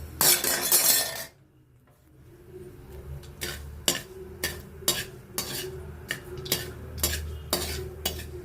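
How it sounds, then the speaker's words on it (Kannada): Mustard seeds crackle and pop in hot oil in a pan, a burst of loud sizzling first, then a steady series of sharp, close spluttering pops at an irregular rhythm. "ಸಾಸಿವೆ ಚಟಪಟ ಅಂತ ಇದೆ"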